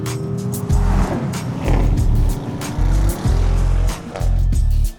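Porsche Cayenne driven hard, its engine loud and close with repeated surges of revving between brief lifts of the throttle, plus a faint tire squeal over road noise.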